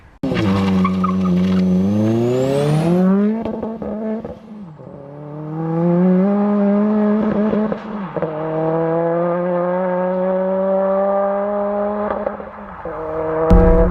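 A Mk1 Ford Focus RS tuned past 400 horsepower is driven hard, its engine loudly revving up through rising gear pulls with brief drops at each shift and a squeal of tires, with no talking.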